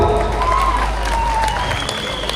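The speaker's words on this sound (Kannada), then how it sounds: "ಅಂಡ್ ಒಂದು ಜೋರಾದ ಚಪ್ಪಾಳೆ." A concert audience at a Kannada Rajyotsava musical night in Kolar claps loudly, dense sustained applause filling the whole moment, with a faint tonal sound drifting over it.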